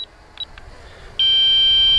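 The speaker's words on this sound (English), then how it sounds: "none of the button pushing stops the beeping" Short electronic beeps chirp a few times from a drone, then a loud continuous high-pitched warning tone sounds steadily to the end.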